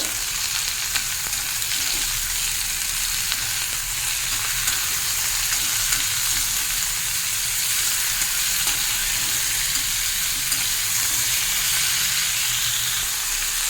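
Ridge gourd frying with a little salt in a pan, a steady, even sizzle and crackle that continues without a break for the whole stretch, with no talking over it.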